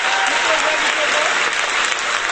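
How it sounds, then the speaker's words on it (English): Applause from a studio audience, a dense continuous wash of clapping hands filling the room at steady loudness. "I got an applause for you"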